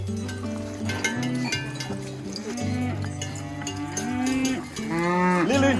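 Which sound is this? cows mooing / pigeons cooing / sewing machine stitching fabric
cows mooing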